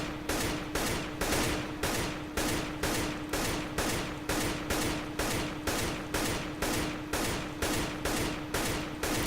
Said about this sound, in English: The AK-47 is powerful enough to kill someone with 1 shot, so you can just do single bursts.